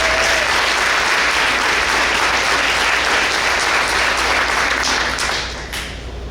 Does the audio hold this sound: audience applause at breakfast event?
yes